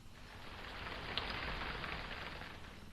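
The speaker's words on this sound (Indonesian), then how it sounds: "hujan turun cukup deras." Heavy rain falls steadily on a house in late afternoon, a dense, even hiss with no pauses and no voices, moderately loud throughout.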